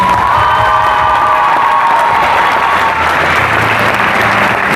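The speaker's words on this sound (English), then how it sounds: "big round of applause for all our seniors" A loud crowd at a volleyball academy's end-of-season celebration applauds and cheers the senior players, with dense steady clapping and whoops throughout, close and full.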